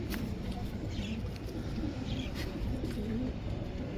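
Pigeons of an old breed coo softly in low, rolling calls, faint and partly buried under a steady wash of background noise.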